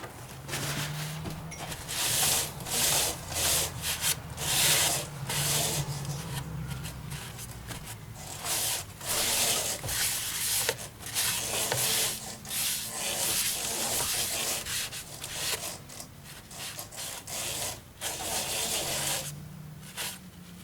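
Steady abrasive rubbing of sandpaper against a ficus wood bowl spinning on a lathe, a continuous scratchy hiss pulsing in short strokes, close and fairly loud with no talking.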